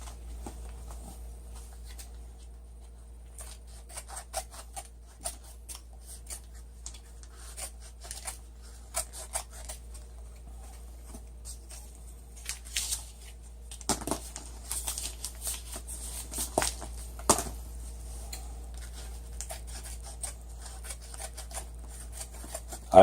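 Scissors cut material for a homemade pot cozy, giving sparse, faint snips and rustling over a low steady hum. The snipping grows busier and louder toward the end, with no voices.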